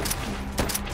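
Gunfire in Call of Duty: World at War, a few loud broadband cracks across a second, with one sharp shot near the middle over steady game background noise.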